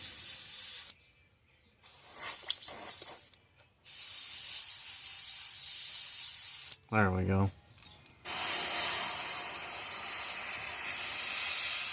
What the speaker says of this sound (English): So we're just going to spray this green where there's blue.